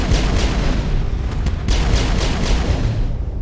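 A turret blowing up during a space battle in the video game Mass Effect: a loud, sustained rumbling blast with several sharp bursts layered over a constant low roar, no voices.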